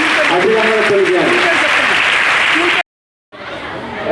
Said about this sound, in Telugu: ఒకసారి గట్టిగా చప్పట్లు కొట్టి అభినందనలు తెలియజేయాలి